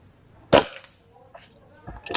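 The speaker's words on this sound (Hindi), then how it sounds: "ओ ये गोली खत्म, सिंगल शॉट चलाएगा भाई।" A single silenced shot from a rifle in a video game gives one sharp crack. Faint clicks follow, then a softer second pop near the end.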